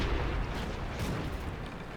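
A tank taking a hit in a tank video game: a heavy, booming impact blends into a steady, dense rumble of engine and battle noise, with no clear separate strikes standing out.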